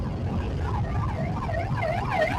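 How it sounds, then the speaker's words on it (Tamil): An ambulance siren wails on a road at night, its rising and falling tone growing louder as it approaches, above steady traffic and engine rumble. "ஆம்புலன்ஸ் வருது மக்களே"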